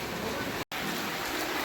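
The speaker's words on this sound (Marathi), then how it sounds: "म्हटलं ना पाऊस पण पडतो आणि वारा पण वाजतोय" Rain falls with gusting wind during flooding in Dighati village near Panvel, Raigad, Maharashtra, a steady broadband hiss heard from indoors, broken briefly by a sharp cut in sound.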